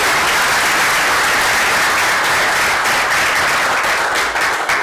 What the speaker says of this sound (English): Let's please give a round of applause for our amazing speaker, Dominic Walker.